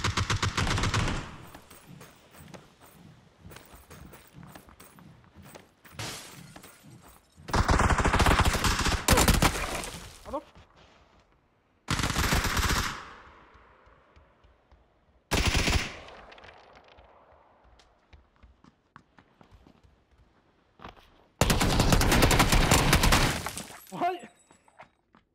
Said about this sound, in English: He shot me straight through the smoke.